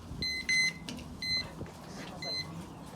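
A kitchen cooking timer beeps in short repeated electronic bursts, about four pulses spaced unevenly, moderately loud over a quiet room while someone briefly speaks as a tri-tip comes off a smoker.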